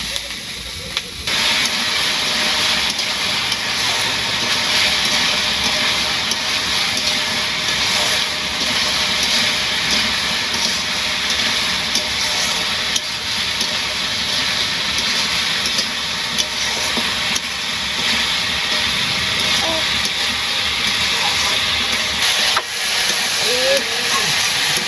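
Vegetables sautéing in a pan during village cooking, giving a steady broadband hiss of steam and sizzle that runs unbroken through the whole stretch, fairly loud and close.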